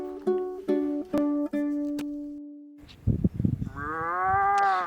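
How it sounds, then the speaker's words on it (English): A moose in the wild gives long, drawn-out moaning calls, several tonal groans in a row that start near and fairly loud, with a few sharp knocks early on and a rising final call. "This is a moose and not a cow"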